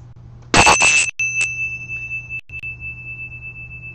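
A ritual bell at a Rosicrucian Gnostic Thelema mass rings out in a brief noisy strike, then a clear metallic tone lingers, sounding again faintly and sustaining steadily over a low background hum.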